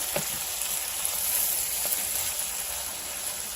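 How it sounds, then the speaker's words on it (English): Steady, crackling sizzle of cabbage frying in a hot pan, close and continuous with a few sharper pops. "You can hear the sizzle."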